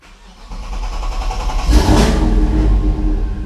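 A Dodge Hellcat engine starts through a newly fitted exhaust and settles into a loud, rumbling idle with a deep, throaty exhaust tone, close up and steady.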